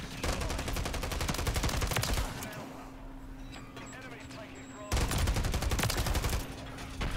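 Rapid automatic fire from an SVA 545 rifle in Call of Duty: Modern Warfare III, loud dense bursts at the start and end with a quieter stretch between, under a game soundtrack and talk.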